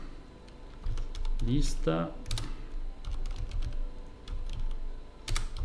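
Fingers clatter on a computer keyboard during a live Python coding session, with quick bursts of key presses and pauses, close and fairly loud, mixed with someone speaking Italian.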